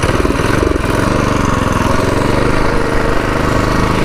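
A Predator 212 engine on a freshly built mini bike idles up close, a loud, steady, slightly uneven thumping putter with no speech.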